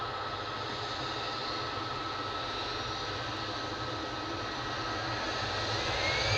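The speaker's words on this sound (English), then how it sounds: "A320 making a bit of a racket" An EasyJet Airbus A320 taxis at Manchester Airport with a constant, fairly loud engine whine and rumble that stays level and grows a little at the close.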